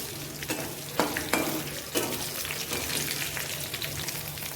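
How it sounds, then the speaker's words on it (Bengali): Bay leaves and fenugreek seeds crackle in hot oil as a close, continuous sizzle, with a few sharp pops and utensil scrapes standing out near the start. "মেথি পুরন আর তেজপাতা পুরন দিয়ে দেবো তেজপাতা দিয়ে দিচ্ছি"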